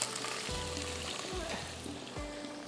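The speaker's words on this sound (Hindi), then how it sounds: "यहाँ पर लहसुन फ्राई हो रहा है" Garlic fries in a pan with a constant soft sizzle, and a few low knocks of stirring come through; a voice is faintly present underneath.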